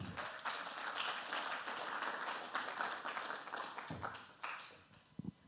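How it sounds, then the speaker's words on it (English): An audience claps for a speaker at a 2019 talk, a faint, moderately dense patter of applause that thins out toward the end, leaving a few scattered claps. "Can we give Dr. Natalie Dixon a round of applause?"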